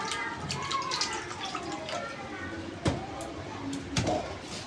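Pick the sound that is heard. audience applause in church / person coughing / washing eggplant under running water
washing eggplant under running water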